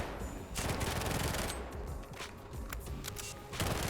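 Rapid automatic gunfire from a firefight in STALKER 2: Heart of Chornobyl, dense continuous bursts close and loud with brief lulls, no talking.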